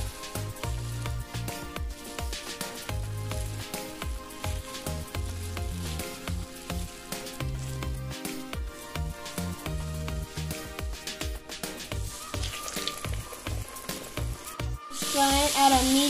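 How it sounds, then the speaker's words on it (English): Fish frying in hot oil in a home kitchen, a continuous crackling sizzle beneath a rhythmic, low-pitched backing track, with a sudden louder burst of spattering near the end. "I will now go in to add the oil to fry the fish."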